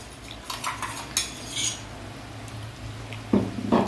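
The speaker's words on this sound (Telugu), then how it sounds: "కారం పొడి మనము ముందుగానే పేస్ట్ చేసి పెట్టుకున్నాం కదా, ఆ పేస్ట్ని అయితే కలుపుకోవాలన్నమాట" Chili powder paste being stirred into chicken in a home kitchen pan, a metal utensil scraping and clinking against the pan in several short bursts, with a couple of louder knocks near the end.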